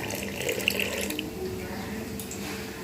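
Water pours from a kitchen tap into a bowl of ground turmeric and salt to mix a spice paste for green-banana kofta curry, a steady close running stream with a few clinks at the start.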